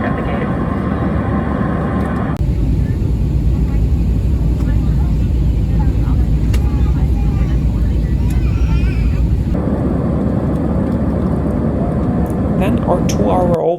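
Steady loud jet cabin roar aboard an airliner descending into Minneapolis, a constant broadband drone that persists throughout, with an onboard announcement voice speaking over it for part of the time.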